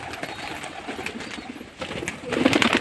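Pigeons feeding give off soft cooing calls and pecking sounds, close by, rising louder toward the end with overlapping coos.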